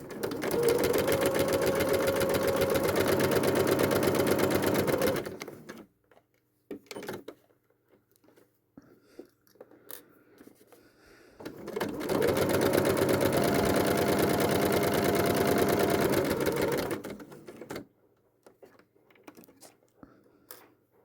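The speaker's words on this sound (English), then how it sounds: "You're now going to sew right down that line." A sewing machine runs in two steady, loud bursts of about five seconds each as it stitches down a line on a sunflower foundation paper-pieced block, with quiet handling of fabric in the pause.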